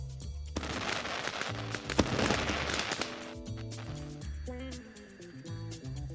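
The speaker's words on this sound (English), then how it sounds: "For some additional fireworks," A burst of firecracker-style crackling and popping from the iMessage Happy Chinese New Year screen effect, loud and dense for about three seconds over music, then giving way to a lighter melodic tune.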